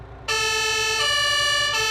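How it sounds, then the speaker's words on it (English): An emergency vehicle siren in Farming Simulator 22 starts abruptly after a moment of quiet, a loud, steady harmonic tone that repeats in a rising pulse, with an engine rumbling underneath. "if you want to change the siren sound"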